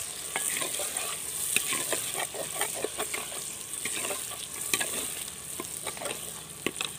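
Tomatoes fry in a pan for dal, with a close, continuous sizzle and crackle broken by frequent scraping and stirring strokes at an uneven rhythm, with no talking.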